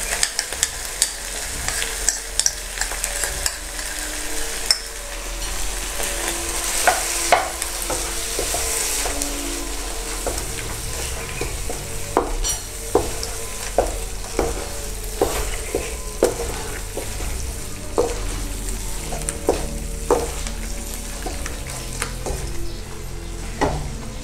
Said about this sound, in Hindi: हमारी मलाई अच्छे से फ्राई हो चुकी है